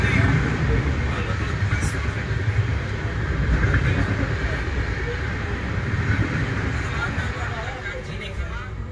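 The Triveni Express runs non-stop at 90 km/h through Pitambarpur station, heard from inside a third AC economy coach as a steady, loud rumble and rattle of wheels and carriage.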